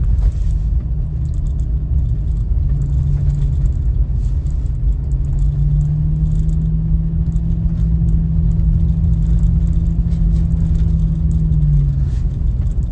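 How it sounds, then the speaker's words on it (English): A car passes on a snowy rural road after heavy snowfall, a steady low engine rumble with tire noise holding close and loud for several seconds before easing off. "And we have another car coming."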